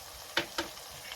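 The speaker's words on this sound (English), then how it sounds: "We're gonna stir this." Lentil curry stirred in a pot, two quick metallic clinks of a utensil against the pot, close and fairly quiet over a faint background hiss.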